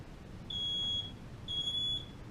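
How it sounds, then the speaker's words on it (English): Two piercing high-pitched electronic beeps sound in a row, each about half a second long, over faint background hiss. "what sound does a smoke alarm make?"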